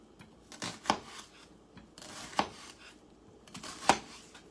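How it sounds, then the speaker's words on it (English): A knife chopping through an onion on a cutting board while cooking tomato and squash soup: three separate, crisp thuds spaced about a second and a half apart, close and moderately loud, with soft handling noise in between and no talking. "And then you just want to cut straight down."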